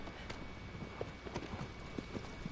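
A horse gallops in the video game Shadow of the Colossus, with rhythmic hoofbeats clopping steadily over a muted background.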